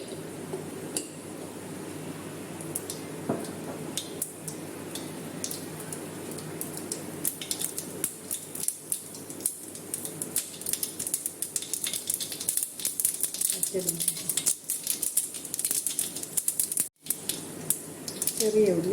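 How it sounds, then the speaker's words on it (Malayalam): Mustard seeds spluttering and crackling in hot oil in a Kerala home kitchen: dense, steady sizzle with rapid popping ticks running throughout, close and fairly loud, with occasional utensil clinks. "കടുകിടാം."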